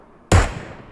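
A single loud, sharp gunshot in the video game PUBG Mobile, a sudden broadband bang with a quick decaying tail, alone with no talk.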